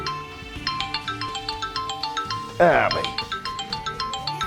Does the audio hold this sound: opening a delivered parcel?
no